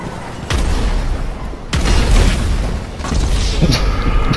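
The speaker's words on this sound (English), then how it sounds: "You using explosive rounds now?" Explosive rounds go off in GTA 5 Online as a string of loud, rumbling booms, three or four heavy blasts close together with debris noise rolling between them.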